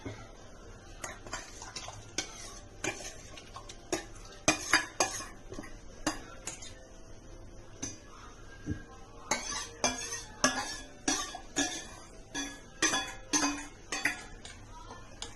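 A spoon scrapes and clinks against a metal pot in irregular bursts as agar agar is stirred into boiling milk, with quiet pauses between the taps.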